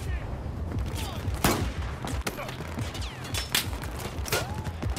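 Battlefield 4 gunfire on a boat battle, bursts of rapid automatic shots and scattered single cracks layered over loud engine and combat noise.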